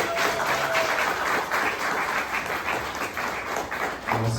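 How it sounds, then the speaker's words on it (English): A meetup crowd of entrepreneurs in New Orleans gives a steady, dense round of applause that fills the whole stretch, with a faint voice briefly under it near the end. "Give Bree and Malik a round of applause."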